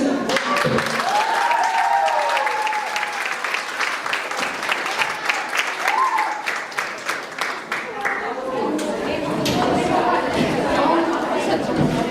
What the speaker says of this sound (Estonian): Ja, aplaus.